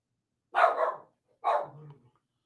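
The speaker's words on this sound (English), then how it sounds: "what are you barking at over there now?" A dog barks twice indoors, two separate, moderately loud barks about a second apart with silence between them.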